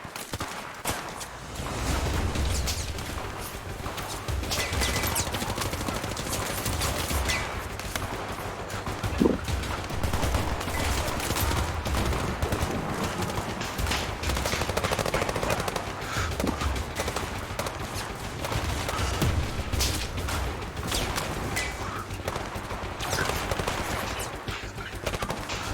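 Gunfire in the VR shooter game Zero Caliber: a dense, continuous barrage of rapid shots and automatic bursts over a constant loud battlefield din, with no talking.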